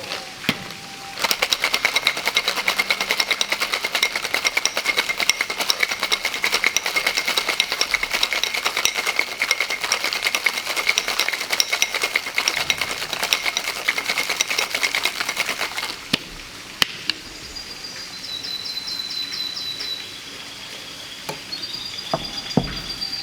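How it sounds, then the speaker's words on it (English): A cocktail shaker full of ice is shaken hard while mixing a drink with State Line Distillery spirits. Fast, steady rattling runs for about fifteen seconds, then drops to quieter handling sounds. "Now we're gonna add our ice. And shake it up."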